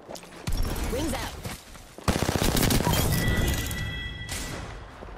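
Rapid automatic gunfire from the Apex Legends video game bursts out after a short thud, rattling loudly for a couple of seconds with crashing impacts, and a voice is briefly heard at the start.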